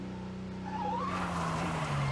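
A car power-slides in the Disney Pixar Cars video game, tires squealing in a rising, wavering screech over a steady engine drone, loud and close.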